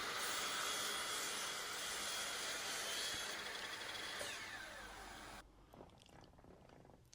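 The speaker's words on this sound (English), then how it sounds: "I think I'm getting the hang of the mitre saw" A mitre saw slices through wood, a loud near whine and rasp that runs steadily for several seconds before cutting off, leaving quiet scraping and clicks.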